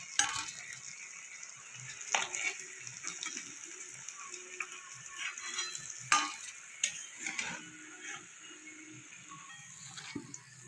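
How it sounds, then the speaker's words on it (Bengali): Eggs fry in a pan while a spatula scrapes and turns them: a quiet, steady sizzle broken by clicking, scraping strokes at irregular intervals. "বাকিগুলো আমি ভেজে নেব।"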